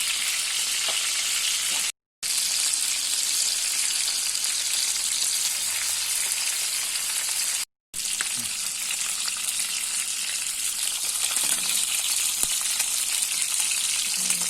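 Mackerel frying in oil in a pan for a simple halal home-cooked dish, a steady dense crackling sizzle that runs continuously at close range, broken by two brief dropouts, with no voices over it.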